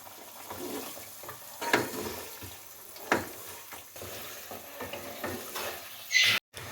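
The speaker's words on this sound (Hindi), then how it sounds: "अब इसका थोड़ा सा फ्लेम हाई करके इसको भून लेते हैं" Chicken korma curry with meat and yogurt sauce sizzles and bubbles in a pot over a high flame, with steady frying hiss broken by the scrape and clack of a spoon stirring, close and without speech.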